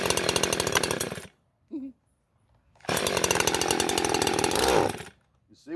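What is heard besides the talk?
Neotec NH843 chainsaw, a Husky 543XP clone, running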